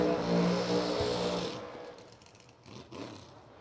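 Drag race cars roaring at the American Door Slammer Nationals, a loud, close engine blast that quickly fades into distant rumble.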